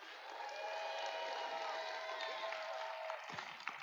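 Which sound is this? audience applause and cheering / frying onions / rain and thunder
audience applause and cheering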